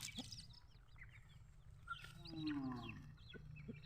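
Chickens cluck and murmur faintly in a coop nearby, with a rooster-like call rising in the middle over a quiet farmyard background.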